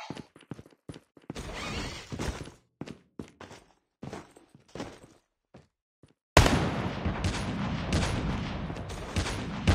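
Gunfire in a competitive shooter match with an AK-47, bursts of rapid sharp shots and clattering impacts in the first half, then a dense, loud continuous barrage of fire and action noise.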